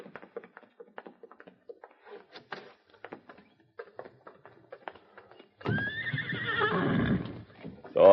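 Horses in a western radio drama: soft clip-clopping hooves and taps come first, then a loud, drawn-out whinny, with a sharp sound at the very end.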